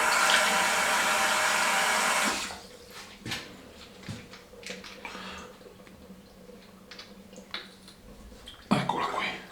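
Water runs hard from a tap into a basin, heating up for a shave, a loud steady gush for a couple of seconds that cuts off, followed by quiet clinks and small handling knocks.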